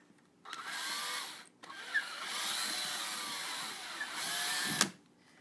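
A power drill whirs in two bursts enlarging a hole in an old book, starting and stopping abruptly, the second run longer with a brief grinding catch near the end.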